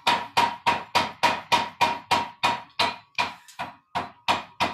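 Belt hammer pounding hot steel for a Sakai forged knife in a Japanese workshop, about fourteen loud heavy strikes in a steady rapid rhythm, each one ringing briefly before the next, with no talking.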